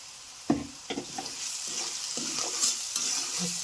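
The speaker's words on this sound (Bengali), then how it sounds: "আলু দিয়ে এগুলো দিয়ে একটু নেড়ে চেড়ে নেব" Potatoes and banana blossom with ground chili, cumin and coriander being stirred in a pan, a spoon scraping and knocking in repeated strokes over a steady soft sizzle, close and moderately loud.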